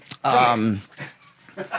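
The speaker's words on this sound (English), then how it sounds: "Are you going to keep barking?" A pup gives a short, close burst of barking and whimpering, with people talking nearby.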